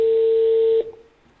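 A single steady telephone call-progress tone held for most of a second, then cut off, leaving faint low line noise, heard while a lottery-prize winner is being rung.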